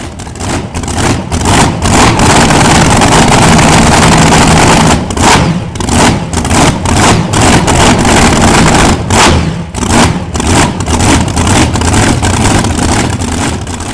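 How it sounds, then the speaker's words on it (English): A Samson Chevrolet monster truck engine roars loudly and close inside a shop, revving in choppy bursts with sharp cuts and rumbling idle between blips. "That Samson Chevrolet is sounding nasty right there in the MTA shop"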